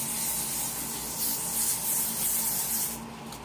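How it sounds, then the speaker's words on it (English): A steady, hissing spray of hair spray runs for about three seconds, close and continuous, then cuts off abruptly. "So I will just kind of spray it again"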